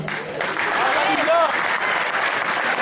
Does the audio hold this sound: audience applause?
yes